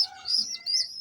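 A pigeon hen feeds two squabs, and the young give quick, high, thin chirps and begging squeaks up close. There are two short bursts within a second.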